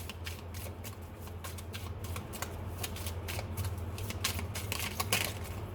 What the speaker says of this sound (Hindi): मैं यहाँ से चेक करूँगी आपके लिए, एक कार्ड निकालूँगी।